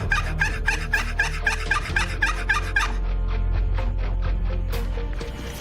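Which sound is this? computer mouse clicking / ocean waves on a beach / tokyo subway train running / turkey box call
turkey box call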